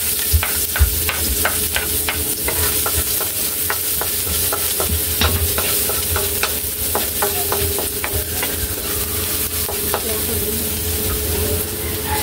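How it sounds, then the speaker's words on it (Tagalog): Chopped onion sizzling in hot cooking oil in a home kitchen pan, a continuous loud fry hiss broken by repeated sharp clicks and scrapes of a utensil stirring, steady throughout with no talking. "igisa na po natin yung sibuyas"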